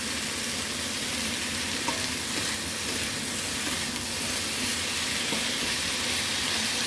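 Celery stalks and leftover Angus beef stir-fried in a pan, giving a steady, dense sizzle throughout with faint stirring scrapes and no talking.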